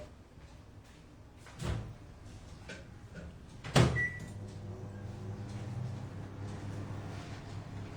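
Quiet kitchen sounds: a microwave door clunks open, then a sharp slam, followed by the low steady hum of the microwave oven running while melting butter.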